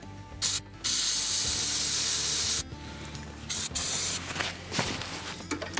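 Ether hisses from an aerosol can in bursts, one short blast then a long spray, into the air filter of a Timberking sawmill engine, followed by clicking, ratcheting mechanical sounds close by.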